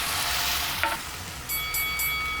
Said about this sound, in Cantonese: 再煎多陣先